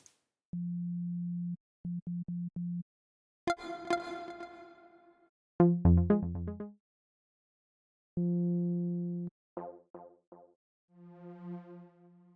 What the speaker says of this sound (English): you think it sounds like a laser harp